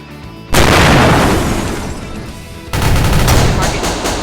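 A grenade blasts in the shooter game Execute: a sudden loud explosive burst, then a second heavy boom and rumble about two seconds later, close and dominant.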